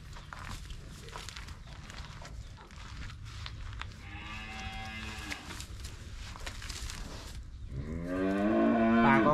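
Cows for sale on a Vietnamese farm moo twice, one long low call midway and a louder, closer moo near the end, over rustling and footsteps.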